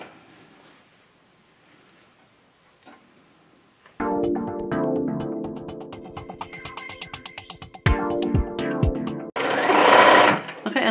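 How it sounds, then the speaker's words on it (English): Sewing machine stitching fabric for a scrunchie, starting after a few quiet seconds with a loud, rapid mechanical whirr and needle clatter in steady runs, brief pauses and speed changes, close up. "locking those stitches, and I'm going to be very careful to make sure I get this stitched"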